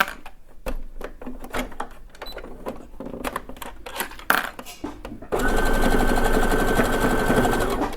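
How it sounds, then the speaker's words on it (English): A sewing machine stitches down the pleats on a fabric face mask: a few seconds of scattered handling clicks and rustles, then a loud, continuous fast mechanical whirr of the needle running to the end. "I'm just going to stitch those pleats down so they stay where I put them."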